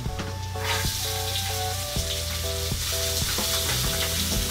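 Garlic and onion frying in a pan, a loud, close, constant sizzle and hiss under steady background music with a regular rhythmic beat.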